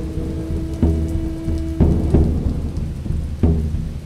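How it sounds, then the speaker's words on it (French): Steady rain pours down over the whole stretch, broken by several deep thunder rumbles and cracks, near and fairly loud, with no voices. "La pluie la précipite au sol avec ce premier bagage à qui elle sert de moyen de transport."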